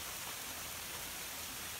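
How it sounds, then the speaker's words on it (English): Steady rain falls outdoors at an off-grid cabin and shed in the woods, a dense even hiss with no breaks and no voices. "So I'm glad it's raining."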